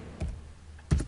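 A few keys are tapped on a computer keyboard while a command is entered in Civil 3D drafting software, two soft clusters of clicks about half a second apart, close and quiet.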